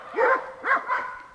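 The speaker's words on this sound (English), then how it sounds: "They finally stopped barking for a bit." Dogs bark at a moderate distance, with three short barks in quick succession and a faint whimper-like tone trailing off.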